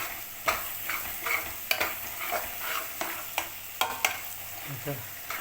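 Tuna fish pieces frying in masala in a pan, a close, steady sizzle with repeated sharp scraping stirs of a spatula at an uneven rhythm, no one speaking.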